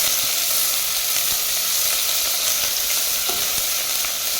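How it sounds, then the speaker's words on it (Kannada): Vegetables sizzle and fry steadily in a hot pan for veg pulav, with the scrape of stirring coming through now and then, close and loud with no talk. "ಅದನ್ನು ಚೆನ್ನಾಗಿ ಫ್ರೈ ಮಾಡೋಣ."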